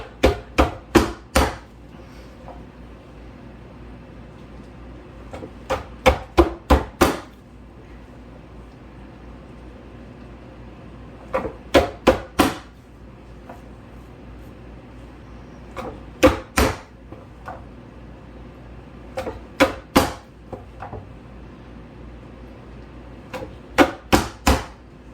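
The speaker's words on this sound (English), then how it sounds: "we're going to get all of these chopped up" A knife chops jalapenos on a cutting board in short clusters of crisp, loud knocks, grouped in threes and fours with pauses between, close up and without talk.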